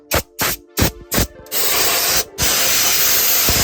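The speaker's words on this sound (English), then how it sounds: "A little bit of compressed air." Compressed air blasts onto the rusted floor of a Ford Econoline van, four short sharp hissing bursts followed by one long sustained loud spray, then another long blast after a brief pause.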